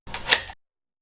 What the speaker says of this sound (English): Lowering the waist level finder switches off the meter.